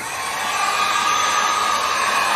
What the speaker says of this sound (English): we got a heat gun we're going to use on it